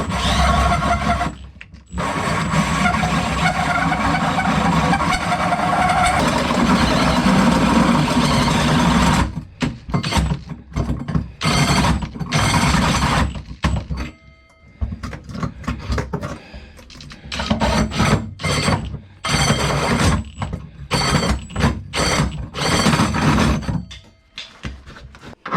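A power drill grinds steadily through metal for several seconds, then breaks into choppy, stuttering bursts as it works through, loud and close, while drilling for a fifth-wheel hitch install.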